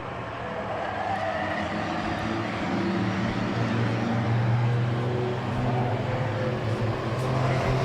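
Race cars circle the track at Claremont Motorsports Park, their engines droning in a steady, dense roar that rises slightly as the leaders come through turns one and two.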